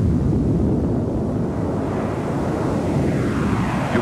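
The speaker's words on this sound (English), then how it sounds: "When it's good and ready, the plane will fly off by itself." An airplane taking off with full flaps in a crosswind gives a loud, continuous roar, heavily buffeted by wind against the microphone.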